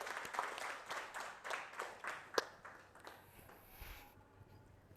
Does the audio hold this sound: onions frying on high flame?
no